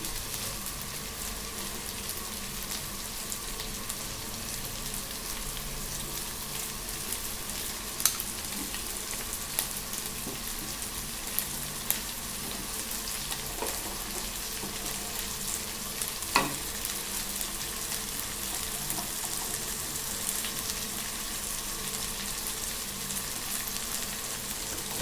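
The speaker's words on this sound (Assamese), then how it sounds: "তাৰপিছত ভালকৈ লৰাই দিম যাতে নিমখ হালধিখিনি ধুনীয়াকৈ মিক্স হৈ যায়।" Okra and tomato frying in a pan with salt and turmeric added, a steady soft sizzle running throughout with occasional clicks and taps of stirring, no talking.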